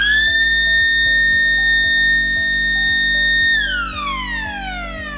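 A loud external fire alarm wails across production test bays and a fleet yard with a steady high siren tone that holds, then slides downward as it winds off.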